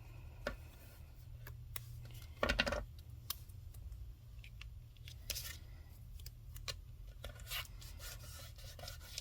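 Fingertips burnish down a craft tape panel on a papercraft card, giving faint rubbing and scraping strokes with a few small ticks and one louder rasping burst. The sounds are close and quiet, with no talk.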